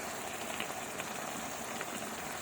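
Mutton kosha sizzles and bubbles steadily in a pan of ground spice paste over medium heat, a continuous close crackling fry without pauses or speech.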